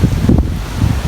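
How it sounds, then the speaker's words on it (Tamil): Strong wind gusts buffet the microphone at a viewpoint in the Udawatta Kele forest in Kandy, with brief rough bursts of rushing noise close up. "செம்ம காற்று"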